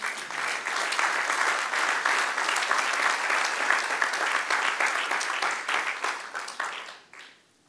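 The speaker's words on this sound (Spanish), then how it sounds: "darle un aplauso al Señor" A church congregation applauds the Lord with dense, sustained clapping that keeps a steady roar for about seven seconds, then thins and fades out quickly at the end.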